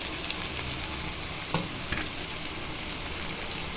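Chopped tomatoes hiss and sizzle steadily in a pan with ginger garlic paste while tomato rice is cooked, a dense continuous frying sound with a couple of faint stir clicks.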